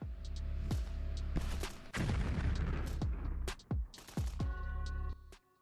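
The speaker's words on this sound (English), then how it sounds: "The storm fighters firing from small arms. Grenades are used" Small arms fire and grenade blasts in combat: loud, closely spaced sharp shots and heavy booms that ring out with long reverberant tails, overlapping one another throughout.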